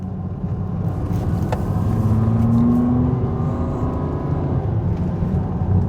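A Volvo S80 five-cylinder engine pulls in first gear with a steady, loud rumble whose pitch rises gradually, close-up and continuous with no talk.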